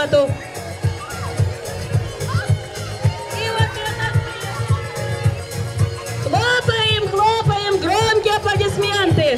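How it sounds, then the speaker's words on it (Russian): Applause and cheering from an audience at an outdoor Maslenitsa celebration in Mayskiy during an award presentation, a lively crowd with clapping, shouts and children's voices, rising in excitement near the end. "Аплодисменты!"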